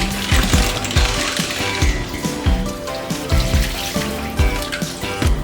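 One kilogram of clams being washed and rinsed in water, shells clattering and knocking together in a repeated rhythmic rattle with splashing water, close and fairly loud.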